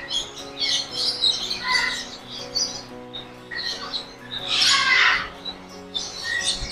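Parrots squawk and chirp harshly in a zoo's parrot section, bursting out repeatedly, one loud raspy call standing out midway, with quieter calls scattered around it.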